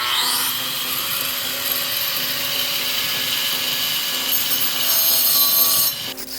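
A handheld grinder works a river rock being shaped into a stone bowl, a loud continuous whining grind held steady throughout before cutting off near the end.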